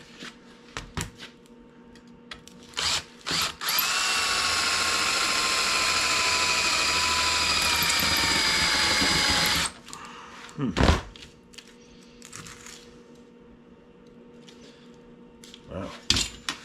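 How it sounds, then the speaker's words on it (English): A power drill whines loudly for about six seconds, steady in pitch, drilling out rivets on a 1963 Schwinn Traveler bicycle, with scattered clanks and clatter before and after. "So let's drill this sucker out."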